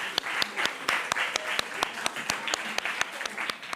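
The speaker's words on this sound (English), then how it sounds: "Round of applause for them." Audience applause at a school quiz show, steady crowd clapping with sharp individual claps standing out, sustained and fairly close throughout.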